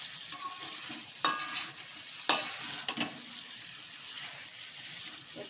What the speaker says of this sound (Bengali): এইবার আমি কচুর গাঠি আর আলু ভেজে রাখা এটা দিয়ে দিচ্ছি এর ভিতরে, দিয়ে আমি একটু নাড়াচাড়া করে